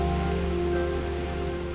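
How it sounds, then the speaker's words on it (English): Rain falls on a car at night in the London suburbs, a steady, dense patter with a low hum underneath and no voices. "And with the rain coming down"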